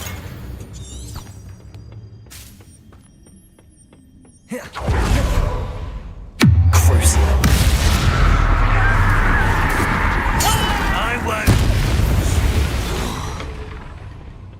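A Bombarda blasting spell goes off in Hogwarts Legacy with a loud, sudden boom followed by a sustained roaring rumble and debris wash, preceded by quieter game ambience and a whooshing cast.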